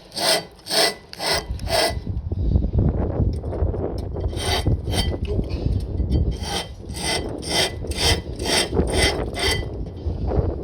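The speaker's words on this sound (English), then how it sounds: "get a sharp screwdriver, wedge it in like so, and just break some of the rust off" A sharp screwdriver scrapes and chips rust off brake pads on a Rover 45 1.6, a series of rhythmic rasping strokes with gritty grinding between them, loud and close.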